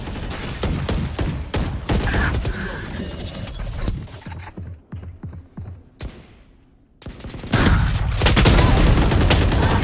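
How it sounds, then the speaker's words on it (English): A swarm grenade detonating in the video game Valorant: a burst of rapid, loud sharp pops and crackles up front, dipping briefly into near silence before another dense volley of blasts. "Placing swarm grenade. Swarm grenade out."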